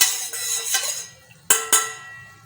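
Melted jaggery strained into a cooking pot of roasted flour for harira, with metal clinks and scrapes of utensil against pot, two sharp knocks near the middle, close and moderately loud with no talk.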